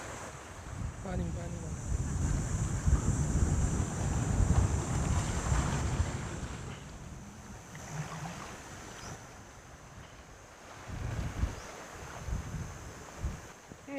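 Ocean surf rolls onto the beach at Natalon, a steady wash of breaking waves with strong wind buffeting the microphone, surges swelling and easing throughout.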